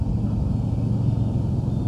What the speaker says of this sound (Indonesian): Truk ini bawa aspal ini loh